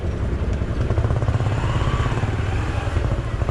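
A group of four motorbikes rides out toward Bhundole campsite, their engines thrumming in a loud, steady low rumble close by, with wind noise and no clear talk.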